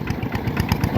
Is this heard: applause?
no